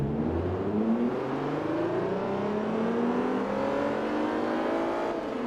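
Race car in Forza Motorsport 3 launching from the start with a racing transmission and slip differential, engine revving steadily upward through rising gear pitch, loud and continuous without talk.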